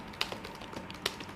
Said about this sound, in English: Keyboard feels nice.